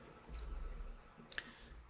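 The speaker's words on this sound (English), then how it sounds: "I'll go ahead and show that by clicking on the freeze icon" A faint, brief pair of mouse clicks on the freeze icon in a software interface, heard near the end against a quiet background.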